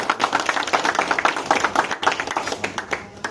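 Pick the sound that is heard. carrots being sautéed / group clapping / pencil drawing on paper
group clapping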